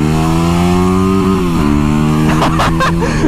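Dual sport dirt bike engine idling with a steady, loud droning hum, then rising in pitch as the throttle is blipped near the end, heard close up with no talking.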